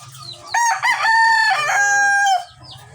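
A rooster crows once, loud and close, among layer hens on a poultry farm, with soft clucking before and after the crow.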